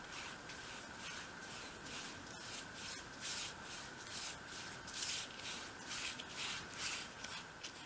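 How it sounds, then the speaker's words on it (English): A brush spreads wood dye over a dolls house with steady, soft, rhythmic strokes. The rubbing and swishing is close and continuous, and no voices are heard. "I'm happy now that I can apply the wood dye"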